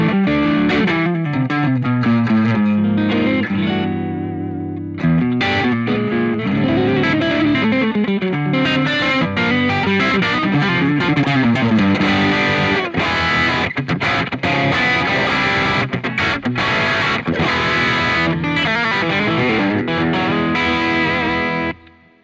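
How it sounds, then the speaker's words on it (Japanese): A distorted electric guitar through a BOSS GT-1000 amp modeler with a scooped drive tone plays chords and riffs, heavy and overdriven, loud and continuous, ringing out with a slight echo before cutting off. "ちょっとドンシャレ気味のドライブになります。"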